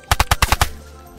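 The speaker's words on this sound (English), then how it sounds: "I'm getting shot at them" A rapid burst of six loud, close gunshots in the video game DayZ, evenly spaced over about half a second, then quiet.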